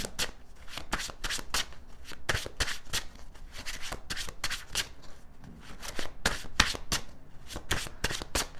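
Tarot cards are shuffled steadily by hand, making a continuous run of close, papery slaps and riffles in a quick, even rhythm with no speech over it.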